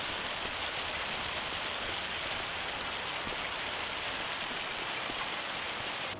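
Steady rain falls in Farming Simulator 25, a dense, even hiss of drops on surfaces that holds at constant loudness throughout without any voices.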